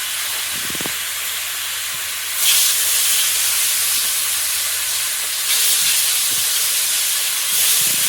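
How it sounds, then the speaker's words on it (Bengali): Eggplant frying in a pan while cauliflower, beans and potato fry nearby, giving a steady broadband sizzling hiss that swells slightly louder a few times across the stretch, with no talking. "এটা হচ্ছে বেগুন ভাজা"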